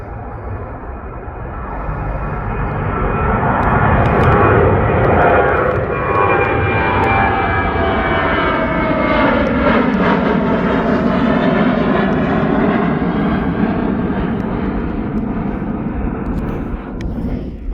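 A Jet2 passenger jet bound for Crete takes off at East Midlands Airport. Its engine roar swells loud and close, then holds with whining tones that bend and shift while the plane climbs away.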